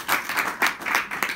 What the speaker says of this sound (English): Give me a round of applause back,